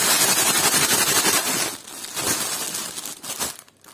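A plastic sack being handled up close, loud dense crinkling and crumpling that fades into softer rustles and a few crackles near the end, with no talking.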